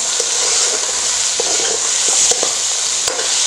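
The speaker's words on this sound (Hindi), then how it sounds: "अब मैंने ये अदरक लहसुन डाला है" Homemade ginger garlic paste sizzles and fries steadily in a hot pan, with a spoon scraping and stirring in scattered clicks through the continuous hiss; no one talks.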